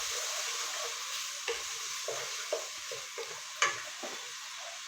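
Onions fry gently in a pan, a soft steady sizzle broken by several light scraping stir strokes and small taps of the spoon, fairly quiet and alone.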